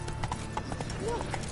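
A horse's hooves clip-clop in the Witcher 3 video game, a quick run of fairly close hoofbeats with a brief whinny, while a person talks over them.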